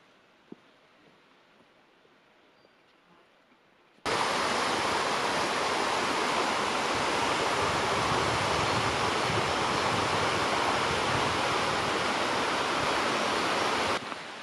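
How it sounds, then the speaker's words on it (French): Cerva stream and waterfall in the Alsace mountains, a loud, steady, broadband rush of flowing water that starts abruptly after a few quiet seconds and continues unbroken, with no voices. "vous entendez la Cerva qui coule, le ruisseau."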